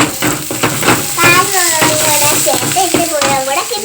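Onions and chillies sauté in a pan, a steady sizzle with scraping stir strokes, close and loud, while a voice talks over the cooking.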